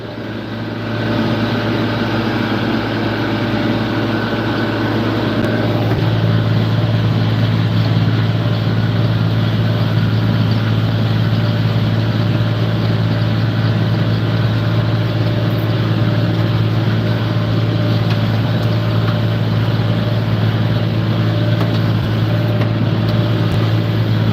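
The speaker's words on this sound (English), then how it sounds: "What tractor am I running? This is a 4255 John Deere." A John Deere 4255 tractor engine idles steadily and close by, a constant low rumble with a deep hum that thickens after a few seconds, running alone with no talk.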